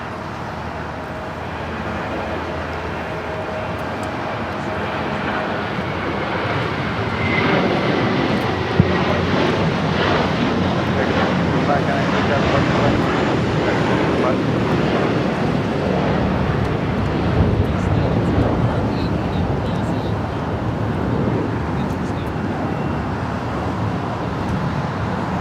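An American Airlines Airbus A321 jet airliner roars on runway 25 right at Los Angeles airport, a steady, loud, broad engine rumble that swells and holds for nearly half a minute with no voices.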